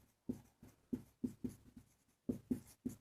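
Numbers are written by hand during a maths lesson, with a pen or chalk making about ten quick, faint taps and strokes in an uneven rhythm and no speech over them.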